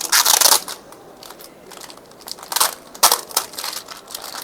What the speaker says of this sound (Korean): 이 안에 있는 비닐을 열어서